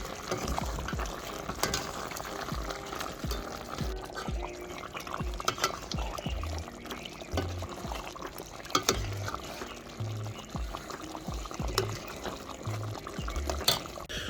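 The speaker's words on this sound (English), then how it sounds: "Just added in the curry. Stir it a bit, should be good." Curry with garlic and onion is stirred in a pot during an outdoor Samoan Sunday cook, giving close wet scraping and clinking with a soft sizzle underneath, repeated irregularly for several seconds with no talk.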